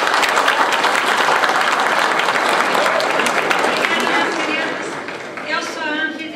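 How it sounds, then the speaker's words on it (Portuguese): Sustained applause from a seminar audience welcoming a doctor as the morning's first speaker, dense and steady throughout before tapering slightly near the end, with faint voices underneath. "Palmas para a doutora."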